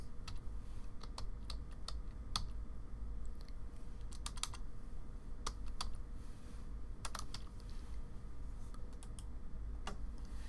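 Typing on a computer keyboard gives irregular bursts of soft, close key clicks over a faint steady background hum, with no talking.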